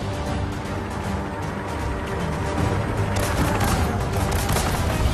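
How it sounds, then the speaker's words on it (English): A turret fires on a zeppelin in Skylanders Trap Team on PS4, a dense, loud, continuous barrage of rapid shots and booms that grows heavier midway, with no voices. "you head down to the turret and start firing away"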